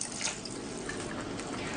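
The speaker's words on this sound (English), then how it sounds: "Give little bit of water." Water poured into a pan of aloo matar paneer masala, a brief steady splashing gush blending with sizzle, close by and without speech.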